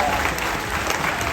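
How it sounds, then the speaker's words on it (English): Steady clapping fills a tiger show crowd at Dreamworld's Tiger Island, a dense, continuous burst of audience applause held at even loudness throughout. "let's give him a bit of a round of applause."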